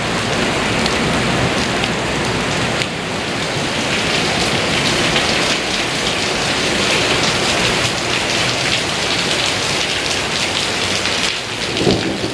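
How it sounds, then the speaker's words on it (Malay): Heavy rain pours down in a dense, loud, unbroken roar around an abandoned rest house, with a low rumble of thunder mixed in and no voices. "Hujan semakin lebat"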